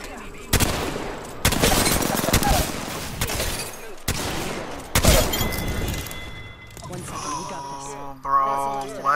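Bursts of video game gunfire in a close-range firefight, loud overlapping volleys and sharp shots cutting in and out over several seconds, with a voice talking and higher tonal game effects near the end.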